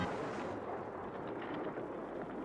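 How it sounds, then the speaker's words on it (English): A low-budget explosion effect from a classic Doctor Who episode, heard as a steady, loud, dense rumble of broadband noise that holds evenly throughout, with no voices over it. "Shame they didn't quite have the budget for a proper explosion there."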